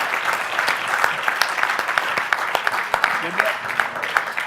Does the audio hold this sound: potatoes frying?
no